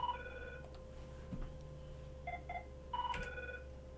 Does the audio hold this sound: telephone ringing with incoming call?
yes